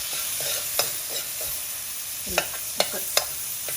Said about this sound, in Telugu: ఈ ఉల్లిపాయలు వేగుతున్నప్పుడు మనకి కొంచెం మంచిగా వేగటానికి సాల్ట్ కూడా మనము కొంచెం వేసుకుంటే తొందరగా మగ్గుతుంది